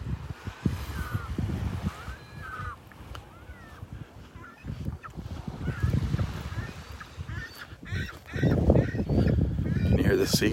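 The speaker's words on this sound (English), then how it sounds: "Can you hear the seagulls behind me?" Birds on a North Naples, Florida beach give repeated honking, squawking calls at varying distances, mixed with wind, surf and some nearby talk.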